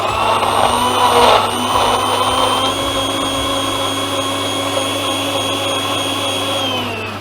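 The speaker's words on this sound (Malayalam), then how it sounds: "അപ്പോൾ നമുക്കിത് മിക്സിയിലൊന്ന് അടിച്ച് നോക്കാം" A mixer grinder blending beetroot and spinach into juice: a loud, steady motor whine with a rough churning surge at the start, running continuously and easing slightly toward the end.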